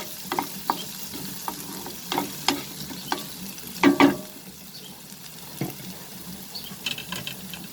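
A spoon stirs mixed vegetables with ginger and garlic frying in a pan, giving irregular scraping clacks over a steady soft sizzle, with one louder scrape near the middle.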